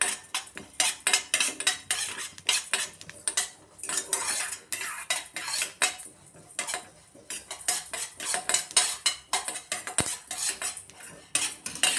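Heated whole masala spices for a vegetable samosa filling being crushed, with repeated sharp metallic clinks and scrapes of utensils against a metal vessel in quick irregular bursts, fairly close and without speech.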